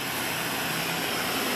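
A steady, loud roaring rush of an old-style propane torch flame, continuous and broadband with no change in level, heard alone without any talking.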